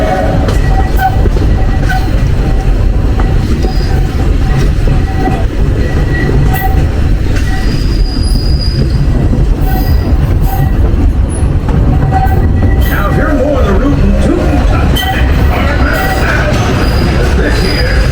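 Walt Disney World Railroad train rolls loudly through Magic Kingdom, wheels rumbling and clicking over the rails with brief squeals and hints of a horn, a constant close mechanical roar with faint voices beneath.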